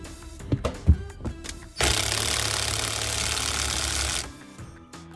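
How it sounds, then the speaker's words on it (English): An impact wrench drives the bolt on a custom carbon fiber steering wheel in a Ford Raptor, a few light clicks and taps first, then a loud close buzzing rattle for about two and a half seconds that stops abruptly. "we'll use our impact again, make sure it's good and tight"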